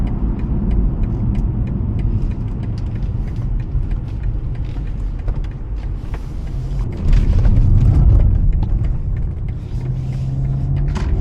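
BMW G20 330i fitted with an M340i steering rack driving along, a steady loud engine and road rumble from inside the cabin, swelling briefly midway.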